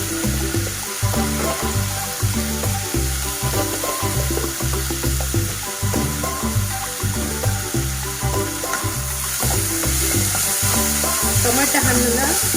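Chopped tomatoes and turmeric frying in a hot pan with fried onions for okra gojju, a loud, continuous close sizzle with occasional stirring scrapes throughout. No one talks.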